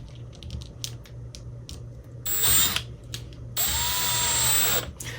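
Power drill driving square-drive screws into a flat cabinet door, short bursts of whirring with two longer, louder runs, close up and with no talk.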